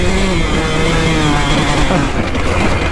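Two-stroke KTM SX125 / Husqvarna TC125 motocross bike engine revving loudly and continuously up close, with rising and falling pitch as it climbs through gears, no talking.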